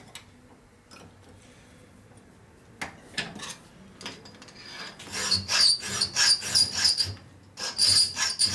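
A hand file works thin tubing on a custom rigid bobber motorcycle frame. Faint scattered scrapes build into loud, rhythmic rasping strokes with a ringing metallic edge, heard close up with no talking.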